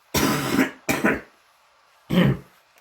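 A person coughs twice in quick succession, then clears the throat once more after a short pause, close and fairly loud, with no talking.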